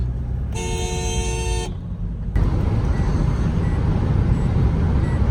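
A car drives on the road toward the Delhi–Meerut Expressway, with a steady rumble of road and traffic noise throughout and a short horn honk near the start.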